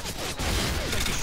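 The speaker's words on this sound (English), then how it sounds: "Sentry gun is still freaking going for it." A sentry gun fires in Call of Duty MW2 on the Scrapyard map, a dense, continuous rattle of rapid automatic shots that stays loud and steady throughout, with no voices over it.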